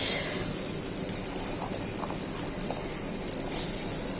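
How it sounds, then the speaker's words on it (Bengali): Chopped onions sizzle in hot oil, a steady dense crackling hiss close by and fairly loud, with no voice over it. "তেল দিয়ে দিচ্ছি, দিয়ে দিচ্ছি পেঁয়াজ"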